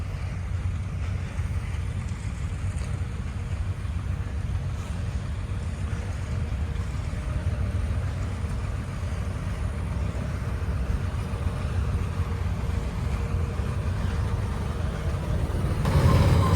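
A Swaraj tractor with a small engine runs in a paddy field, giving a steady, loud, unbroken low rumble with wind-like noise throughout and no talk.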